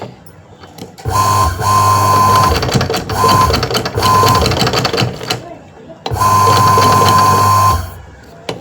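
A sewing machine stitches a bag in two loud sustained bursts with a steady mechanical whir and tonal hum, separated by a short pause and stop-start spurts between them.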